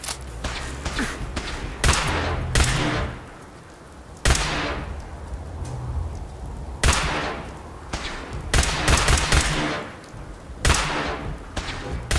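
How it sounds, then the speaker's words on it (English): Gunfire in Fallout 4 rings out in sharp cracks and rapid bursts, some shots spaced apart and others clustered, with loud echoing reports across the clip. "How did I miss that shot? It was aiming right at him."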